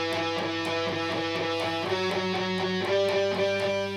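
Electric guitar plays the riff, a steady repeated picking pattern that shifts pitch midway, close and clear with no talking.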